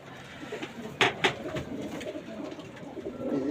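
Pigeons coo at moderate distance in a pigeon loft housing racing pigeons, with a nesting pair and two fresh chicks; soft murmuring continues throughout, broken by two sharper bursts near the middle.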